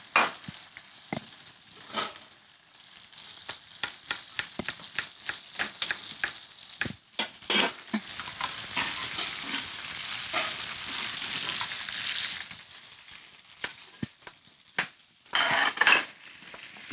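Mushrooms sizzle and crackle steadily in a hot pan, punctuated by repeated clinks and scrapes of a utensil stirring against the pan.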